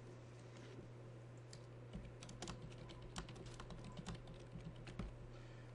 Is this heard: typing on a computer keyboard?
yes